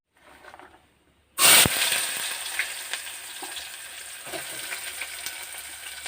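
Small onions and green chillies drop into hot oil in a small cooking pot and burst into a loud sizzle. A quiet moment comes before the splash, then a steady frying hiss continues with faint stirring scrapes.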